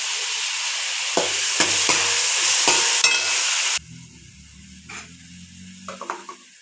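Tomatoes fry in a pan with a loud, steady hiss and sizzle, broken by several scrapes of stirring, before the sizzle suddenly drops to a quieter bubbling with occasional stirring knocks.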